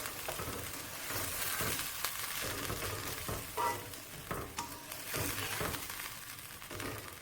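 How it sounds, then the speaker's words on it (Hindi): Garlic and ginger fry lightly in a pan, giving a steady, close sizzle broken by stirring scrapes and small clatters, with no speech. "ये लहसुन और अदरक को हमने हल्का सा भूनना था 30-40 सेकंड के लिए"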